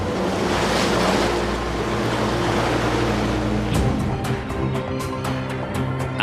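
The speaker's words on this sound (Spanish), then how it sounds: "El HMS Coventry desaparecía entre las olas." Ocean waves and wind roar steadily over open sea where the warship HMS Coventry sinks, a dense broadband wash with low hum, later joined by a series of sharp repeated bursts.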